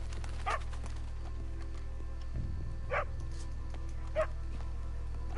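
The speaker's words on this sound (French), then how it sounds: "Attends, un chien ici." Dog barking in the video game Red Dead Redemption 2, three short separate barks at a moderate distance over a steady low ambient hum.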